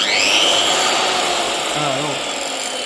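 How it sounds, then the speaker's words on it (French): A circular saw of over 1500 watts, powered by a 100Ah lithium battery, whines loudly and steadily, winding down slightly, with a short spoken word near the end. "la scie circulaire, elle fait plus de 1500 watts"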